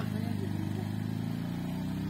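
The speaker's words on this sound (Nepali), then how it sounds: "उता दाइले बाइक चढेर चलाउनु भएको छ" A motorbike being ridden nearby in Thini village, Mustang, gives a continuous low puttering engine drone, moderately distant and fairly quiet, holding steady without revving.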